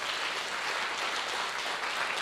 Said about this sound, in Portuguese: Quem pode dar um aplauso ao Senhor Jesus?